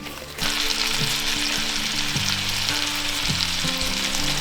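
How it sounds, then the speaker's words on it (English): Grouse meat drops into a hot pan and sizzles loudly and steadily in butter, with occasional clinks and scrapes beneath the frying. "The butter is getting hot, starting to sizzle."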